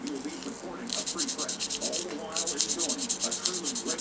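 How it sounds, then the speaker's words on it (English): Very fine sandpaper rubs back and forth on a plastic Gunpla model kit in quick rhythmic strokes, close and soft, with no talking. "I call it a lighter sandpaper."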